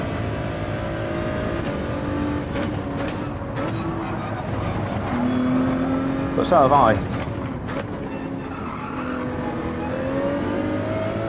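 Race cars lapping Road Atlanta in a manufacturers' trophy race, a continuous engine drone with rising and falling revs, heard under a commentator's steady talk.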